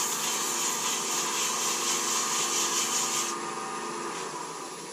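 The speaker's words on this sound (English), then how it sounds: "I'm going to take the 100 grit. I'm simply going to put my lathe." A wood lathe spins a pen blank while it is sanded with 100-grit paper at about 1,000 rpm, giving a steady humming whir with a rubbing hiss that eases off slightly near the end.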